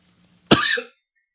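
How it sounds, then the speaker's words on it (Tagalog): A single sharp cough, close and fairly loud, in an otherwise quiet room, ending quickly. "Ay, kasabad man sang ubo ko ngayon eh."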